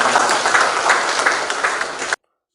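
Applause from the audience at the swearing-in of a new KNPI Sorong Selatan chair, dense and loud as many hands clap together, then stopping abruptly.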